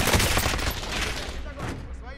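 Rapid enemy gunfire in the video game Warzone crackles in dense, sustained bursts, loud and close, with a short lull before shots resume.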